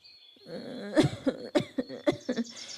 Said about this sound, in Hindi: माँ हर वक्त खांसती रहती है